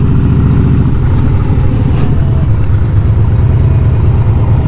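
Harley-Davidson motorcycle engine heard from the rider's seat, a loud, continuous low rumbling throb with steady pulsing and no clear breaks, wind noise over it.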